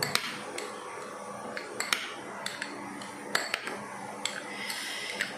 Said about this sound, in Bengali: তো আমি যেহেতু চিনি নেব না সেই জন্য একটু মধু নেব, দিয়ে এটাকে মাখিয়ে রেখে দেবো।